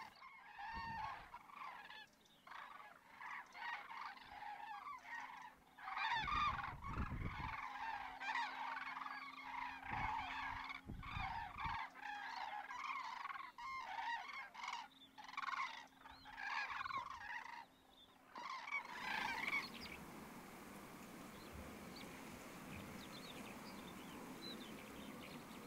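A flock of common cranes calls in repeated, overlapping trumpeting bursts during calm, windless weather between training flights. The calls are loud and continuous for about nineteen seconds, then give way to a steady, broadband rushing noise.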